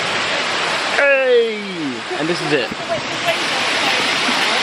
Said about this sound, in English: We made it to level 7 at the waterfall.